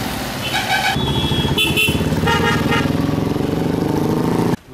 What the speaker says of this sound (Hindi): जिसमें 9 जितनी मोटर बाइक एवं एक 4 व्हीलर गाड़ी साथ में जा रही है।